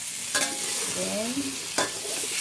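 Boiled potatoes stirred with butter in a pan for potato salad, a soft sizzle broken by two sharp scraping strokes of the spoon, close and brief with no voices.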